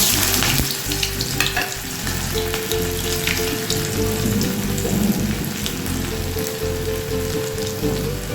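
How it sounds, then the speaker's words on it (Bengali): A medium potato fries in hot oil, a loud dense crackling sizzle like heavy rain that holds steady for about eight seconds, close to the pan with no talking. "তেল গরম হয়ে গেছে এবার এতে দিয়ে দিচ্ছি আমি মাঝারি সাইজের একটা আলু"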